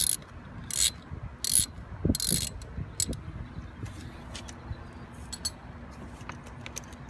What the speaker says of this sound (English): loosen this clamp right here, which you could do with a flathead screwdriver or a 9/32 socket